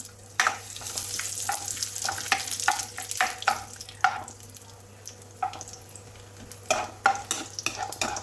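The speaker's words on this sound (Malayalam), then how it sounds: "അത് ഫ്രൈ ആയി വരുമ്പോൾ ഇത് റൈസൻസ് ഇട്ട് കൊടുക്കാം" Cashews and raisins fry in a pan with a low, constant sizzle while a spoon stirs and scrapes in repeated clacking strokes, close up and without speech.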